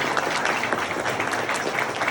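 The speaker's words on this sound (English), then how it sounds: "How about a big round of applause one more time for Vic Armstrong and" An audience at a VIP party for Indiana Jones stunt doubles claps steadily, a dense, even patter of many hands filling the room without pause.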